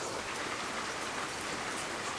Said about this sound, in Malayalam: നല്ല കിണ്ണം കാച്ചിയ മഴയാണ്